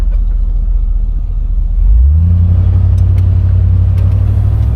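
A 1975 Pontiac Grand Ville convertible's 455 V8 rumbles low and steady while driving, then swells into a louder, rising rev as the throttle opens at about two seconds, holding a smooth, continuous drone with no talk.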